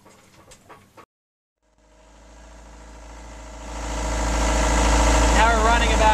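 A car engine cranks and starts after a short silence, then settles into a steady idle that builds in loudness and holds near and continuous, with a voice speaking over it.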